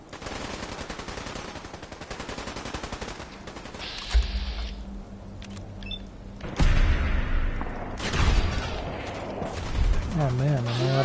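Rapid bursts of gunfire from a radioactive weapon in the video game Fallout 4: Nuka World, dense and loud, mixed with booms, impacts and other game effects, with a voice talking between shots.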